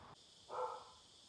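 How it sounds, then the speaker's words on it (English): A dog barks once at moderate distance in a quiet room, a single short bark after a brief thump. "My dogs are barking again."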